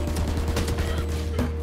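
Rapid gunfire in Valorant: a dense, crackling string of shots fired in quick succession over a low rumbling bed, loud and close, lasting under two seconds.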